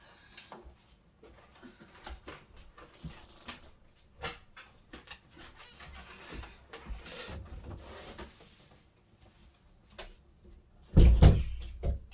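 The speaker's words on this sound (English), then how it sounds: "I'm going to shut my door." A loud door thuds shut near the end, after a stretch of soft household rustling, knocks and footsteps. No one speaks.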